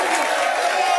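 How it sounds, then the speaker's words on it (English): Studio audience crowd noise on a sports talk show, a dense, steady roar of many voices chanting together and heard on its own for about a second. "He's left the crowd chanting."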